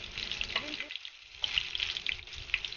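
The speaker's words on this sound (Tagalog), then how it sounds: "Nilagay ko na yung mga sibuyas." Onions frying in a pan for sautéed mung beans, a steady close sizzle with a brief quiet gap in the middle before the crackle returns.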